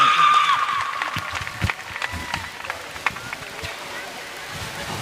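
Audience applause at a mushaira, an Indian poetry gathering held at a madrasa: a short voice gives way to scattered, crackling clapping from the crowd that thins and stays moderate.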